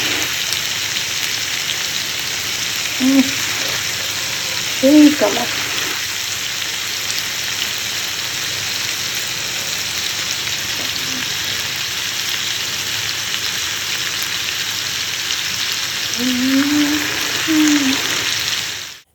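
Gravy with chopped tomato frying in hot oil in a wok, a steady, close sizzle running throughout with a few stirring knocks and a brief voice over it.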